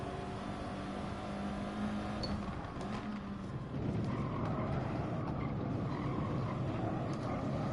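GR4 race car engine in a racing video game on the Nordschleife, short shifting from second to third, a steady drone that dips at the gear change and then pulls harder under full throttle.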